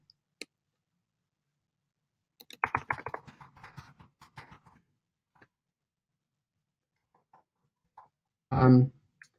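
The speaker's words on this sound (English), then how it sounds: "All I did was hit compose and start typing." Computer keyboard typing while composing a message: a short burst of quick clicks, then a few scattered taps, close and fairly quiet, with a louder thump near the end.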